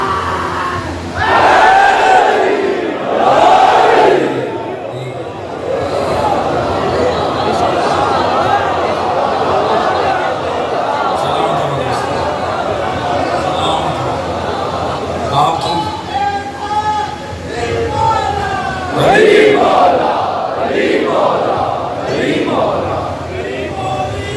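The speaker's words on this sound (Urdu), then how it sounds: "دونوں ہاتھ بلند کر کے پوری طاقت سے نعرے کا جواب دے گا" A large crowd at a Muharram majlis shouts a slogan back in unison, with loud massed cries rising in waves over roughly twenty seconds of sustained crowd roar.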